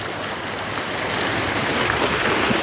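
Sea waves wash steadily over a rocky, oyster-shell-strewn shore at a coastal fishing spot, a loud, continuous close-up hiss and rush of water that swells slightly toward the end, with no voices.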